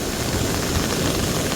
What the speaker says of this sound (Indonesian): Hujan kembali lebat hujannya